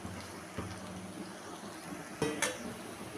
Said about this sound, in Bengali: ভালো করে সব মিশিয়ে নিলাম